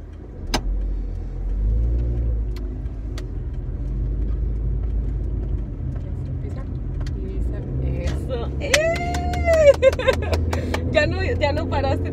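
A car driving along a route to school during a driving practice lesson, with a steady low engine rumble and road noise throughout, ending in a brief burst of higher, squealing tones.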